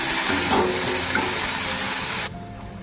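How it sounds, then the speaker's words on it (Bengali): Fish frying in oil with salt and turmeric, giving a steady broadband sizzle and hiss that holds loud and constant, then drops away suddenly near the end. "এবারে একটু নুন হলুদ তেল দিয়ে কষে দিচ্ছি"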